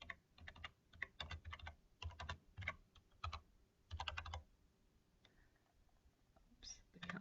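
Keys clatter on a computer keyboard in quick bursts of close, crisp clicks separated by short pauses, with a soft hum in the background and no talking.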